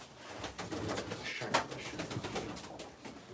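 Soft pigeon cooing among other bird calls, fairly faint against a steady outdoor background hiss.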